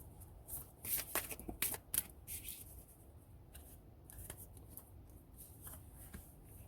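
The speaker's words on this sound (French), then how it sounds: "On va choisir 3 cartes pour voir qu'est-ce qui peut vous aider à amener de l'harmonie dans votre vie amoureuse." Tarot cards are shuffled and handled close up, with quick papery riffles and slides bunched in the first two seconds, then lighter rustling and a few soft snaps.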